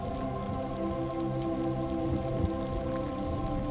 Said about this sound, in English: the storm roared and enveloped the ship into darkness